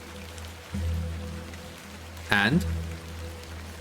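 Steady rain patters in The Excavation of Hob's Barrow, a low constant wash under the scene, with a brief spoken line cutting in over it near the end and a short thump early on.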